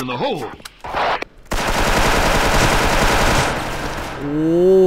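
Sustained automatic gunfire in the online shooter Special Force, a dense rapid burst lasting a couple of seconds after some short bursts, loud and close, with speech and tonal game sounds around it.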